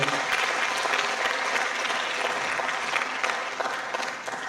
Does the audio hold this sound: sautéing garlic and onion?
no